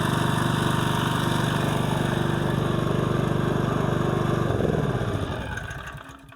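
A petrol generator runs steadily after starting, its engine idling with a loud, even drone up close, then it slows and dies away toward the end.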